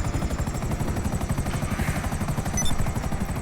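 Helicopter in GTA 5, a steady loud rotor chop with rapid rhythmic thumping and engine whine throughout, close and continuous with no talk.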